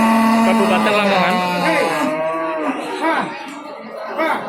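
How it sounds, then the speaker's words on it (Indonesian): A local cow at a cattle market in Lamongan, East Java, lets out a long, loud, close moo that slides down and fades, with market voices chattering behind it. "Ini sapi lokal dari Kabupaten Lamongan."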